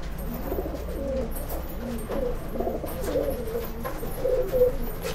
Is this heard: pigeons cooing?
yes